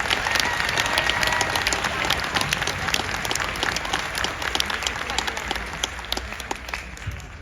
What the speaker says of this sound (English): give a round of applause to all of the teams that were here